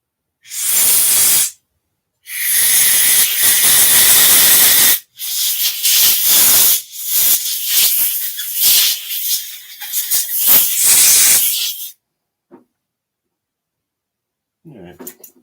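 Compressed air blowing out a Powermate generator carburetor, loud hissing blasts: two long bursts, then a string of shorter choppy puffs, followed by silence and a faint clunk.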